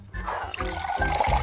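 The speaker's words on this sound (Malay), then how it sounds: "Sekarang saya akan tuang kopi ke dalam cawan." Coffee is poured into a cup in a kitchen, a short gurgling, splashing stream of liquid that runs steadily and close by, alone without talk.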